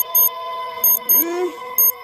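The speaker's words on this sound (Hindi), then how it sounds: "सुबह होने पर अलार्म बजता है।" A morning alarm goes off in a household: a series of short, sharp electronic beeps in bursts of roughly two, sounding over a sustained tonal background.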